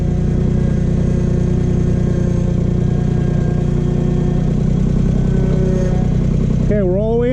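A Ventrac tractor engine at full throttle lifting an attachment: a loud, steady, close engine drone that holds constant throughout, then strains and wavers in pitch near the end, with someone talking over it.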